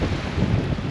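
Strong, cold wind at Two Medicine in Glacier National Park roaring and buffeting the microphone in a steady, loud rumble, with no voices.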